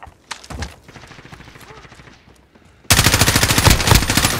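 Rapid automatic gunfire in a Call of Duty: Modern Warfare multiplayer Domination match, first a few scattered shots under game radio voice, then a loud, close, sustained burst of machine-gun fire in quick regular rhythm.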